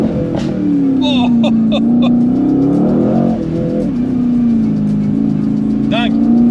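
Mercedes-AMG GT C engine accelerating outdoors, a steady loud engine drone with rising and falling revs held close throughout, with brief higher whines and faint talk over it.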